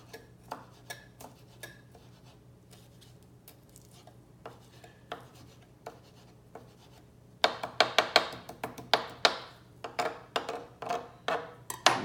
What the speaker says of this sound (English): take this Serra knife right here and these greens and chop them up very little